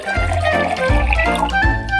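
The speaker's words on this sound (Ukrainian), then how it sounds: "Поставимо ємність от сюди і заповнимо водою." Water pours steadily into a container as it fills, a continuous close liquid rush with a few brief pauses and restarts, heard alone without talk.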